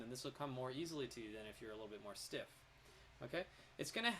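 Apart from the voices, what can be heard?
None of the usual background noises is heard.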